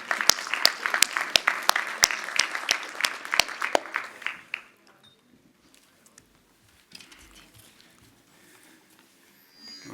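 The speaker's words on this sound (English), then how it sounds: "let's welcome with a big round of applause the Head of Advisory Financial Institutions Division at the European Investment Bank" An audience at the FI Campus 2025 financial institutions conference applauds an incoming moderator. Scattered hand claps ring out for about four seconds, then fade into a quiet room with faint shuffling.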